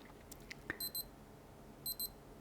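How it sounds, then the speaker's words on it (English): Two pairs of high, thin electronic beeps from a Casio G-Shock DW-6700 digital watch, spaced about a second apart, in a quiet room with faint handling clicks. "until you hear a solid beep"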